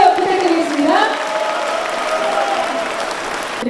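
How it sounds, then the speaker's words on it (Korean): An audience claps steadily at the inauguration ceremony of Seoul's mayor, a loud, sustained wash of applause from a large crowd that slowly tapers. "큰 박수 부탁드리겠습니다."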